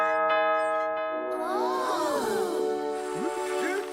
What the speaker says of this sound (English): Then you will ring the bell,